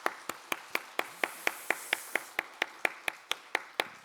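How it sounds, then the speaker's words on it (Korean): Slow, steady rhythmic clapping from a church congregation giving encouragement, about sixteen even claps in four seconds, moderately close and fairly quiet, with no talking over it. "그런 차원에서 힘차게 격려의 박수 하시겠습니다"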